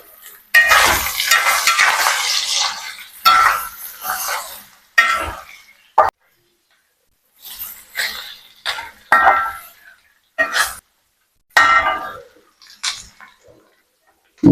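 Shallots, garlic, ginger and tamarind are stirred in a pan for beetroot chammanthi, heard as intermittent bursts of scraping and light sizzling separated by near-silent gaps, with clinks of a spoon against the pan.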